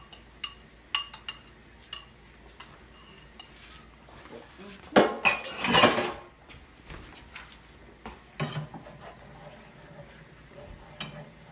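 Food being stirred and mixed in a cooking pot, scattered clinks of a utensil against metal building to a busy burst of scraping and clattering midway, then lighter taps.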